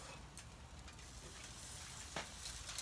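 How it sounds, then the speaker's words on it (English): Faint, steady crackling sizzle of chicken wings and drumsticks on a hot grill, with occasional small pops and ticks. "We hear the sizzle, don't we?"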